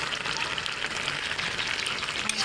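Ghugni, a spiced dried-pea curry with cumin powder and garam masala, sizzles softly in a pan while being stirred. A steady, faint crackle of frying continues throughout with no talking.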